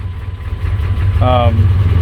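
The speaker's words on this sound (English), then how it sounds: "RPMs will jump up and down, as they kind of are now." A 6.5 diesel engine idles roughly with its RPMs surging up and down, a loud steady low rumble close by, with a short tonal whine rising over it partway through.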